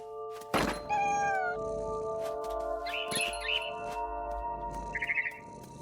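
A thump is followed by a single drawn-out cat meow, then a few soft bird chirps over a quiet electronic hum, in the video game What Remains of Edith Finch.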